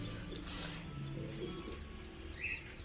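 Racing pigeons in a loft give soft, low cooing mixed with light chirps, fairly faint against steady background noise.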